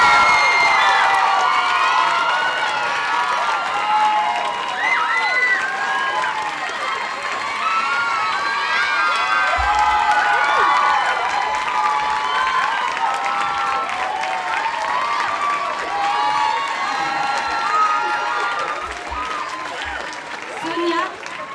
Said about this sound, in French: je pense qu'il faudrait une immense main d'applaudissements à Sonia Poulet.